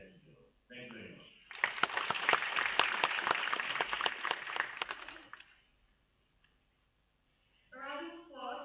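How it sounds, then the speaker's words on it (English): Audience at a World Environment Day club event breaks into applause for a guest speaker, a burst of about four seconds that fades out, framed by a voice speaking before and after. "A round of applause for Mr. Rashid Chaudhry for his valuable time and words."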